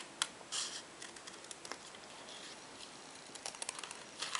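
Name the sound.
scissors roughly cutting around a stamped paper motif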